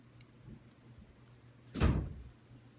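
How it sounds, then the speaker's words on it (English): A closet door breaks in a quiet room with one sharp, loud crack and clatter near the end. A couple of faint knocks come before it. "I just broke my closet door."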